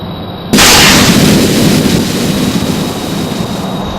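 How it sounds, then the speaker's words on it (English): In the video game Kerbal Space Program, a sudden loud blast hits after a short quiet moment, then rolls into a long, rumbling, crackling noise that fades slowly, with no voices. "There's some nice little explosions there."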